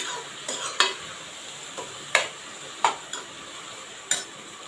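A spoon stirs garlic, coriander and mint paste into prawn rice in a pot, giving several distinct metallic scrapes and clinks over a soft steady sizzle, close and moderately loud with no talk.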